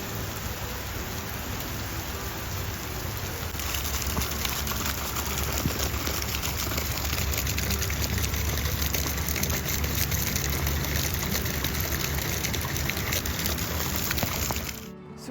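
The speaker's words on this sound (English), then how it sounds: "Let's get out of the rain." Steady, heavy rain falling outdoors, a dense continuous hiss that holds loud and even until it stops abruptly at the very end.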